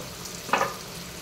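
Sliced onions frying in a pan with cumin, turmeric and fenugreek powder for bitter gourd fry, a soft steady sizzle with one short stir scrape midway, close and without speech.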